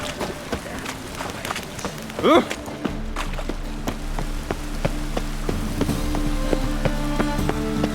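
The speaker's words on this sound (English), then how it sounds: "Rain again." Steady rain falls in The Witcher 3: Wild Hunt as a continuous hiss with crisp, regular clicking steps, while a brief voice rises and fades.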